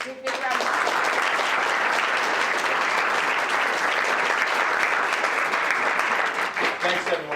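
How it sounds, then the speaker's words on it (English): At a college talk an audience applauds steadily for several seconds, dense clapping from a crowd in a hall with faint voices mixed in. "let's go ahead and give him a big round of applause."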